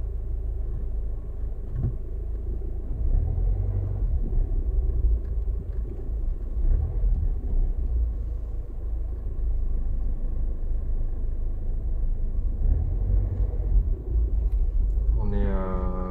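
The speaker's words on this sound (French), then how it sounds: "Là le véhicule va stationner." A car rolls slowly and pulls in to park beside the Champ de Mars in Paris, its low engine rumble steady and fairly quiet throughout, with a brief tonal sound near the end.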